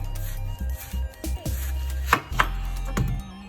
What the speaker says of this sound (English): get your onion, cut it in half